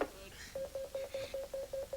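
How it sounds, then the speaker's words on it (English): A telephone line rings during a 1988 variety TV show, a steady train of short repeated electronic tones pulsing at an even rhythm, fairly faint. "It's ringing."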